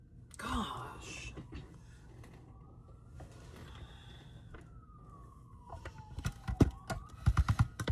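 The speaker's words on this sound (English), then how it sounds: "That's the sound of the police." A police siren wails faint and distant, a long slowly falling tone beneath nearby clicks, taps and room noise.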